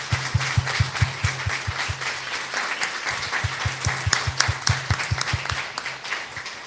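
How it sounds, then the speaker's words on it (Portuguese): Steady applause from a crowd at a church novena evening service, with a rhythmic low thumping beat running underneath, sustained throughout. "Vamos recebê-lo com uma salva de palmas bem forte."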